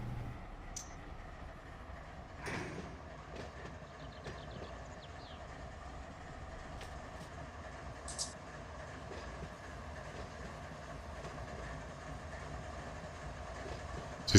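Big diesel road locomotives run in Run 8 Train Simulator with a continuous low engine drone and rolling rail noise, broken by occasional clunks and a brief hiss, steady and moderately distant.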